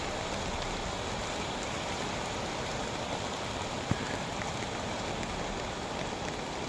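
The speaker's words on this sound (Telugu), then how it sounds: "మామూలుగా వాన రాలా చూడండి. చిన్న వాన కాదు" Heavy, steady rain falls continuously in a downpour that has persisted for days, a dense broadband hiss with one brief sharp knock partway through and no voices.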